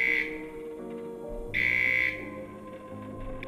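Electronic alarm beeping from the adventure game Return to Mysterious Island 2, two loud sustained high-pitched tones separated by a pause, set over a steady low game background hum with no talking.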